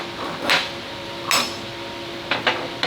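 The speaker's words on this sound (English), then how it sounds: "Now what we need to do is hit the pin out" A hammer strikes a hinge pin on a KV-1S tank barrel in a workshop, a few sharp metallic blows spaced unevenly, close and moderately loud, with a faint hum underneath. No talking.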